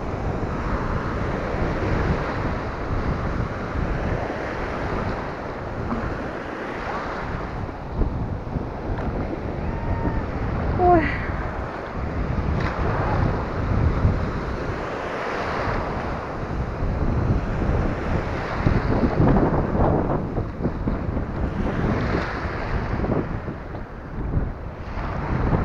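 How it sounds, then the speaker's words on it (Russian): Sea waves wash steadily onto a pebbly shore at Stepanovka on the Ukrainian coast, a continuous rushing surf mixed with wind buffeting the microphone, with no talk. "Немножко вам моря."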